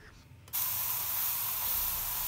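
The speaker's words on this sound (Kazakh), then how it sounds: "Осылай жақсы етіп сәбізді қуырып аламыз." Grated carrots hit a hot pan and burst into a loud, steady sizzle after a brief quiet start, the frying hiss continuing unbroken to the end.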